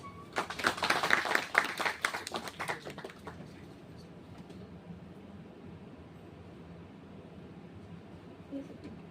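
An audience at a rural entrepreneurship talk applauds to welcome a mentor, a dense burst of clapping that peaks in the first two seconds, then tapers off into quiet room tone.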